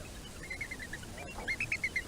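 Birds honk in a played-back video file, a string of short goose-like honks over a steady hiss of background noise, fairly faint, with a brief quieter run followed by a louder rhythmic series.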